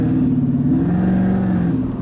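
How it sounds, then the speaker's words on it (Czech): A car engine revving with its exhaust valve flap opened, giving a loud, steady, rumbling drone with slight rises in pitch throughout. "když zmáčknu Open, tak se otevře záklopka na vejfuku"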